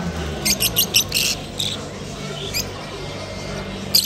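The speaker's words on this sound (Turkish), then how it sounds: "Bunlar sevda papağanları." Lovebirds chirp in quick, sharp bursts at a Bursa bird market, several high tweets clustered early, then scattered calls over a low background murmur.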